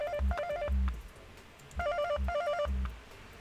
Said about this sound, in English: It does a little ring, like a telephone ring.